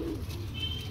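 A female Lakhi breeder pigeon coos low and soft at close range in a brief, steady burst, with faint chirps and background hum around it.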